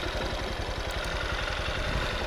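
A Honda XR 190 CT motorcycle engine chugs in second gear off-road, a close, steady, throbbing low putter at fairly low revs with a faint clatter and no talking.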